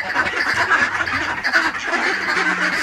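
A dense flock of geese in a bird park honking and cackling together, continuous overlapping calls, fairly close and loud.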